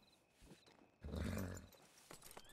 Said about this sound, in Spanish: limpia el caballo ya que no te puedes limpiar tú.